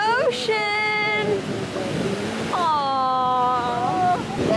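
Ocean surf rolls steadily onto the beach at Siesta Key on a spring break day. The constant wash of waves and wind is the bed of the scene, with excited voices calling out over it.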